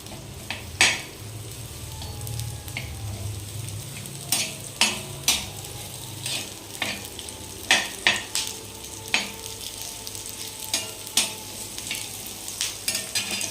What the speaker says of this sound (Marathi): आपण इथं कांदे, आलं आणि लसणाच्या पाकळ्या घेतलेल्या आहेत, आणि आपण ते आता भाजून घेऊ